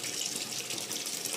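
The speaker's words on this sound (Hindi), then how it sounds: "वॉशिंग मशीन सर्फ पानी डाल दिया" Water running into a washing machine loaded with detergent and clothes at night, a steady close gushing and splashing stream with no pauses.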